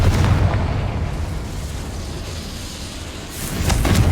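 A Confringo explosion spell bursts in Hogwarts Legacy, a loud, deep boom with heavy low rumble that fades, then a second blast swells near the end; no talking.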